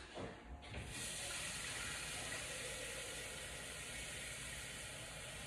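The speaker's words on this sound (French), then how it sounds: "On remet encore, allez, de l'eau, 1 litre." One litre of water pours steadily into a container in a kitchen, a soft continuous hiss and splash that starts after a brief moment and keeps going without a break, faint and close.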